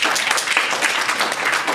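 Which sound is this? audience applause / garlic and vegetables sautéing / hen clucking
audience applause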